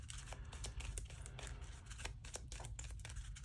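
A deck of cards from a deckbuilding board game is shuffled close by, giving a steady stream of papery riffles, slaps and crinkles for several seconds.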